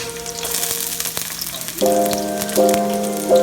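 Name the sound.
garlic sizzling in hot olive oil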